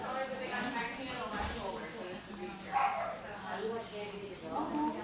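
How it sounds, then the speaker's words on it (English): A small dachshund gives a few short yips and whimpering barks outdoors, mixed in among people talking nearby. "It's a little dachshund."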